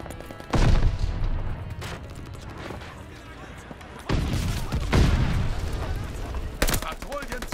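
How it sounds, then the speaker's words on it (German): Goliath remote explosive detonating in Call of Duty: Vanguard multiplayer, with heavy booms near the start and again midway amid sustained gunfire and battle noise. "Goliath explodiert."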